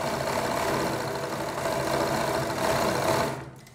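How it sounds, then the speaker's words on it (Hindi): A sewing machine runs in a fast, even mechanical chatter, stitching multi-colour dori cord piping, close and steady for a few seconds before slowing and stopping. "मैं आपको सिलाई दिखा दूंगा, थोड़ी सिलाई और लगा लेता हूँ।"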